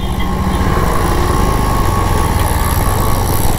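Vehicle engines idling and revving in traffic stopped at a signal in Tiruvannamalai, a loud, continuous, buzzing drone of small engines close by with no pauses.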